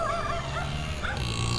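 A dog barks and whimpers in short yelps and whines amid steady background noise, fairly close and continuous across the moment.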